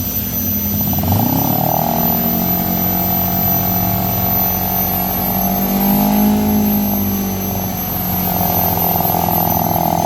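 A Kawasaki Ninja 250R with a swapped carb regulator rectifier cranks on the starter and catches, settling into a steady droning idle with a slight rise and fall in pitch, close and loud with no talking.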